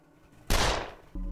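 A burst of gunfire from a shooting video game, one loud blast or short volley that fades away, then a further shot right at the end.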